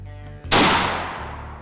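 A single loud shotgun blast from a TSS turkey load fired while patterning at a bench outdoors, a sharp crack followed by a long decaying rumble, with faint low voices just before.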